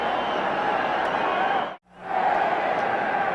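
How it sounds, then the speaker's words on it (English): A packed football stadium crowd at the 1985 NFC Championship game between the Chicago Bears and the Los Angeles Rams, a dense continuous roar that cuts out abruptly for a moment and then returns. "The crowd is intense"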